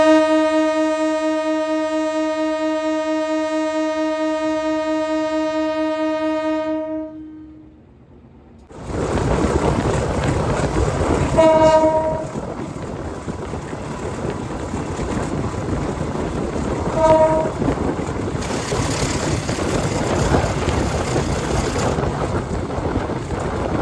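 Argo Wilis executive train on the Surabaya–Bandung route sounds a long sustained horn, then roars past close by with heavy rumbling wheels and brief further horn blasts amid wind noise.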